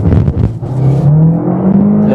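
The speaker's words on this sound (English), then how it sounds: "hopefully you might be able to hear the noise of the car because it does sound quite nice in sport mode" A 2020 Audi A3 in sport mode launching from a standstill toward 60 mph, a brief scrabbling burst followed by a loud, steady engine note climbing in pitch as it pulls hard, heard from inside the car.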